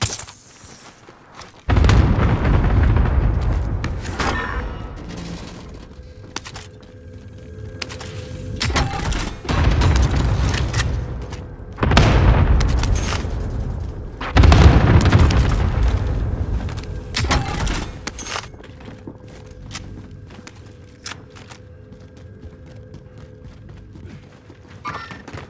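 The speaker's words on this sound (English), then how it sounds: "Enemy cluster strike incoming." Enemy cluster strike explosions in the Call of Duty Warzone video game land as a string of heavy, booming blasts, several deep thuds a few seconds apart with rumbling tails fading between them.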